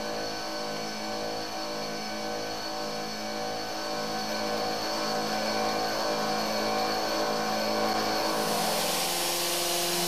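A CNC machine runs a Seco Super Turbo cutter in helical interpolation, producing a loud, sustained high-pitched whine with a layered tonal hum and no pauses. The pitch swells and brightens near the end, and nobody speaks.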